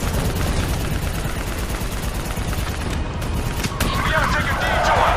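Sustained, dense gunfire rattles through a Call of Duty Black Ops 3 battle, loud and continuous with overlapping bursts, booms and heavy rumble, while shouted voices break through now and then.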